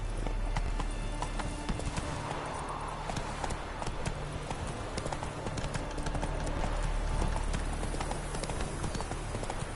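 Roach the horse trotting in The Witcher 3, with steady, rhythmic hoof clip-clops on a path under ambient game sound and music, continuing throughout.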